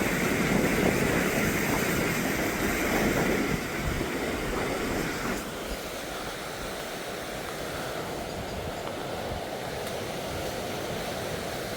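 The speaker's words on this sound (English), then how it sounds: "Just showing everyone the river, the state of the river." The swollen Waiwhakaiho river rushes through rain in a continuous broadband roar, steady and fairly close, with no voices over it.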